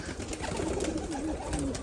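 Pigeons at a pigeon auction give soft, throaty coos, a short rolling burst close by amid a busy, noisy background.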